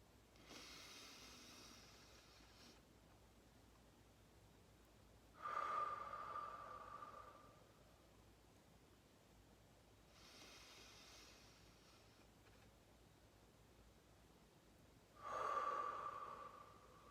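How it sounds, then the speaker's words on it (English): Slow paced breathing exercise, air drawn in through the nose and let out through the mouth, with soft breaths returning about every five seconds, the exhales swelling a little louder, close and alone with no talk. "in through your nose for 4, hold for 2, out through your mouth for 4"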